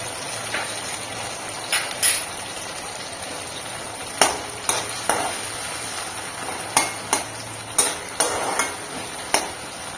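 Soya kofta curry with green chilli and a little water is stirred in a pan, with repeated scraping spoon strokes at an uneven rhythm over a soft, steady sizzle.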